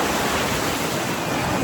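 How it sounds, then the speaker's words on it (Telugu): Ocean surf breaking on Vizag beach on the Bay of Bengal, a continuous loud broadband roar of waves washing in close by, with no voices. "మస్తు వస్తున్నాయి అలలు"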